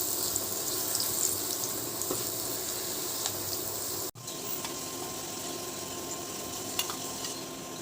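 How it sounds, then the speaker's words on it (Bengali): Potatoes frying in the same oil previously used to fry rohu fish, a continuous even sizzle heard close and steady, with a brief dropout midway and small pops, no voices. "মাছ ভাজার ওই একই তেলে আলুগুলো ভেজে নিতে হবে"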